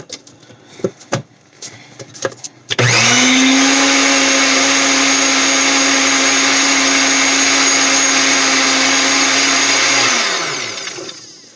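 Kitchen blender whipping cake frosting, a loud, steady motor whine that starts abruptly after a few soft clatters, holds for about seven seconds and then winds down.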